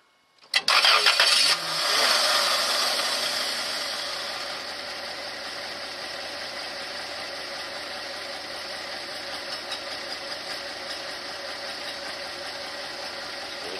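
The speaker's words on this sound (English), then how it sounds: "so I'll start the van now" Toyota Tarago Previa van with a 2TZ-FE engine cranks briefly and fires, with a loud burst at the start that settles into a steady, even idle heard close up.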